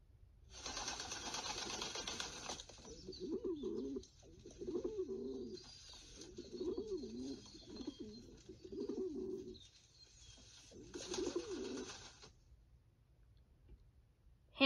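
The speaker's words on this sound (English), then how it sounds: "Pigeon." A domestic pigeon coos in several rhythmic, throaty bursts at close range, separated by short pauses, over a steady background hiss with no talking.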